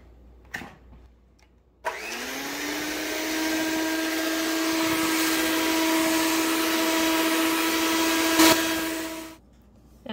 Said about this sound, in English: So I'm going to whisk these together until they turn a pale yellow color.